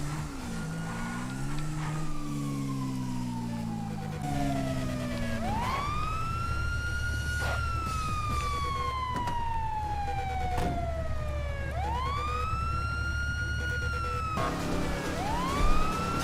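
Police car siren from a GTA roleplay game, wailing up and down in long sweeping cycles over a steady engine drone, loud and close, with no talk over it.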